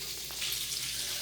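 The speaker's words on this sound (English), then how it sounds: "let's have this fried up whilst we're waiting for the rice" Salmon fries in a pan, giving a steady, close sizzling hiss throughout with no talk.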